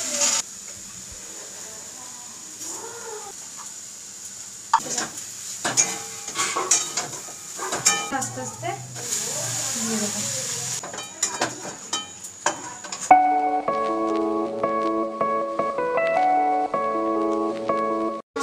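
Peanuts fry and hiss in a pan while a utensil stirs and scrapes, with clinks and sizzles through the first part, then a steady sizzle later on with some tonal sounds mixed in, and no speech.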